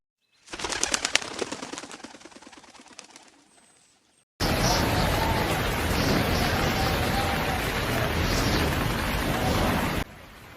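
Steady cartoon rain hiss pours down without a break for about six seconds, loud and close, after a softer stretch of bird cooing and fluttering at the start.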